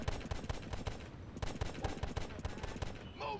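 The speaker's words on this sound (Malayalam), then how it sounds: "ഒന്ന് വേഗം വെടിവെക്കടോ" Rapid gunfire in the GTA San Andreas video game: quiet bursts of repeated shots crackling in quick succession with no pauses.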